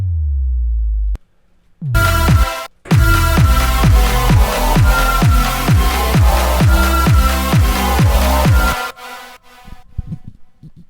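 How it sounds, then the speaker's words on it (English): A trap remix with a low tone, then a dense run of repeated bass drop hits sweeping downward at a steady beat, loud and alone, ending in a sparser tail. "Oh, and then I have these bass drop effects"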